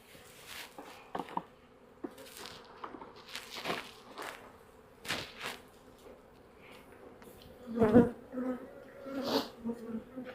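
Honey bees buzz around an opened hive during a Demaree swarm-control split with the queen below in the brood box, a steady near drone broken by soft handling knocks and rustles, swelling louder near the end.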